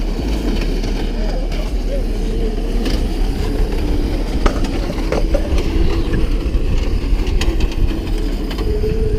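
Crazy carts whir and buzz steadily at the Honda Euro Meet in France in 2022, a continuous motor drone mixed with crowd noise and nearby talking.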